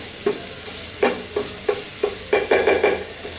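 Egg sizzling in a frying pan on the stove while a spoon breaks it into small pieces, about seven sharp metallic scrapes and taps in an irregular rhythm over a steady close hiss, no voices.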